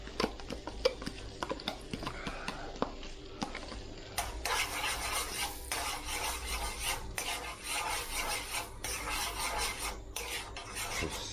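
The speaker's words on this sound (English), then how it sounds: "we're basically dropping our garlic in our butter here" Garlic cooking in butter in a pan, opening with scattered scraping clinks of a utensil, then a louder steady sizzle with rasping stirring strokes, close and with no talking.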